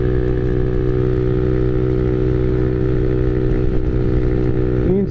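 A Honda Navi small motorcycle engine held at high revs during break-in, a loud, steady, droning buzz with little variation, close by and without voices.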